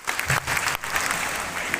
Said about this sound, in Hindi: जोरदार तालियां साथियों।